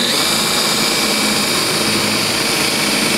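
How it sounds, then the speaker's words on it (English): A power drill, run in reverse first, bores a hole through carpet while a Lowrance StructureScan 3D unit is being installed, giving a loud, steady, unbroken whir for about three seconds with no talking. "We want to drill a hole."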